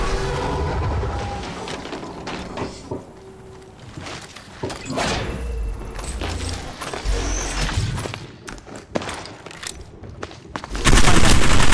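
Gunfire in the mobile shooter Apex Legends Mobile on a train yard map: repeated sharp shots and bursts over about twelve seconds, loud and close, with a heavier burst of fire at the end.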